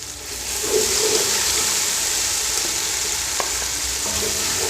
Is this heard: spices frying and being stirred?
yes